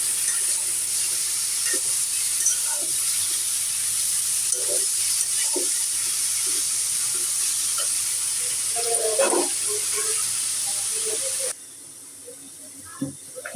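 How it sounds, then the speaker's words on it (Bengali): Meat boiling in a cooking pot, a steady close hiss of bubbling liquid with scattered small pops and stirring clinks; a voice speaks briefly, and the hiss drops away near the end. "মাংসটা ফুটে গেছে এই যে বন্ধুরা"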